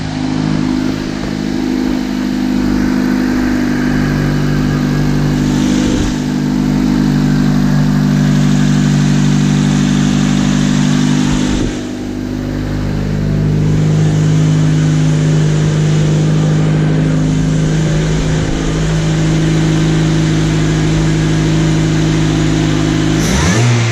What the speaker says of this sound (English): I'll start the engine up.